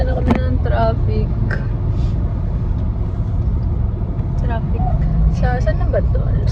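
Road traffic heard from inside a moving car in Zambales, a steady loud low rumble of engine and road noise with chirpy overlapping sounds on top and people talking throughout.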